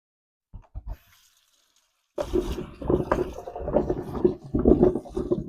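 Fresh okra pods are rinsed under running tap water: a few brief knocks first, then a steady splashing stream with rustling and scraping as the pods are handled in the sink.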